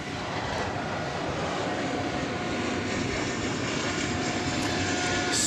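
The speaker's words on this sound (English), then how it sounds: "UPS 747-8." UPS Boeing 747-8 cargo jet at DFW Airport, a steady broadband engine roar that holds at the same loudness throughout, heard from a moderate distance with no voices.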